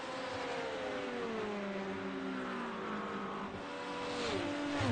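GT3 race cars at Watkins Glen circuit, engines droning at a distance with rising and falling pitch as they pass through corners, a steady faint roar.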